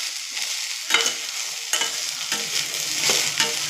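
Broad beans (avarakkai) sauté in a pan with a soft continuous sizzle, punctuated by a few sharper scraping stirs close at hand.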